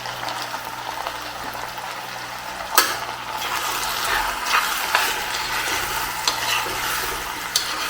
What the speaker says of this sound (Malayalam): ഇനി നമുക്കിങ്ങനെ ഇളക്കി അടച്ചു വെക്കണം